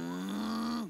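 A person's voice imitates a cow mooing: one sustained, low, nasal moo lasting under a second, loud and close, sliding down at the end.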